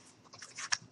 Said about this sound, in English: You're going to take a piece of the yarn. You're going to cut it.